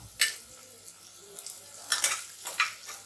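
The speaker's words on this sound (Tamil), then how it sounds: "இப்போ பச்சை மிளகாய் சேர்த்துக்கிறோம். வதங்கட்டும்." Green chillies frying in a pan with onions for chicken biryani, a soft sizzle under a few sharp scrapes and clinks of a spoon against the pan, close and fairly quiet.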